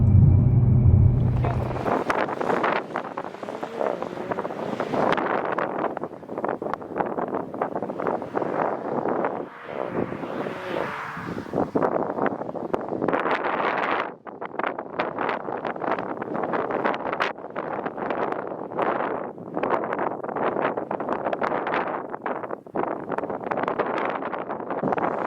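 Strong wind buffets an outdoor microphone for the whole stretch, a loud, continuous rumbling roar with gusty surges and crackling bursts, nearly unbroken.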